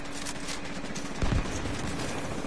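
Rapid automatic gunfire in Tom Clancy's The Division 2, a steady rattling burst of shots with one heavier, louder impact near the middle, heard at moderate level without talk.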